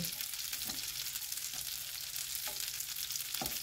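Food frying in a pan at home while a meal-kit recipe is cooked, a steady broadband sizzle with a few soft clicks of the pieces being turned and moved, close and moderately loud, no voices.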